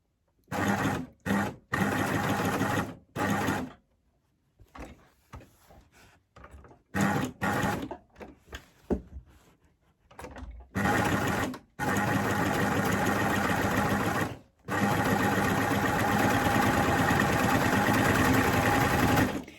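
Coverstitch machine sewing a plaid satchel bag, running in loud bursts of steady stitching with short pauses between runs and a long continuous run near the end.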